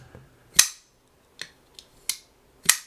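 An Ontario Rat 1 pocketknife blade snapping open and shut, a handful of crisp sharp clacks and clicks spaced irregularly, close and clear against silence.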